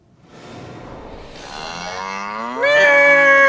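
Red heifer cattle low loudly in ancient Shiloh, a close, drawn-out moo that swells and rises in pitch toward the end, heard alone without talk.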